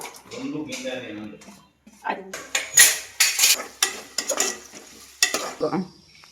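Two onions fry in plenty of oil for a mutton curry, a soft sizzle under sharp clinks of a spoon stirring against the pan, with a person talking over the first part.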